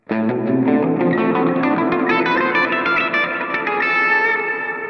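Distorted electric guitar rings out with sustained, heavily effected chords, thick and loud with some reverb, and no voices.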